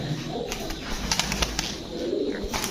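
Pigeons at a market stall coo softly in repeated low calls amid a busy background of faint chirps and rustling, with no speech heard.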